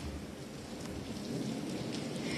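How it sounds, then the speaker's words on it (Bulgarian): Heavy rain falls steadily in Sofia, a dense continuous hiss of downpour on streets and surfaces with faint rumbles underneath, no voices. "Проливен дъжд, придружен на два пъти градушка на места в столицата, превърна улиците на София в реки"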